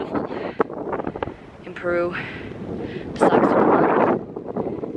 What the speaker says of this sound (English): It is so windy here today that my eyes are watering a little bit